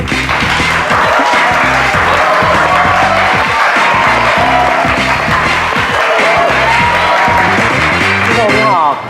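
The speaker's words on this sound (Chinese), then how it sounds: "让我们掌声欢迎自从周自从" A studio audience on a 1980s Taiwanese television variety stage applauds and cheers to welcome a singer, loud and continuous under music playing at the same time.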